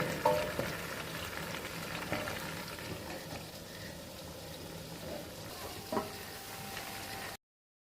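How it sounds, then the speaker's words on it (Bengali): Malabar spinach (pui shak) and vegetables with shrimp sautéing in a covered pan: a steady, close sizzle and bubbling throughout, with one brief clink of a utensil near the end and no talking. "সবজিগুলো ভালো করে কষানো হচ্ছে।"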